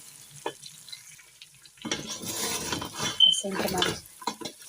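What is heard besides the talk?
stirring spices into mutton trotters in a pot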